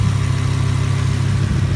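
A Lamborghini Huracán LP610-4 sits idling with a deep, steady, throbbing burble, close and constant throughout with no revs or voices.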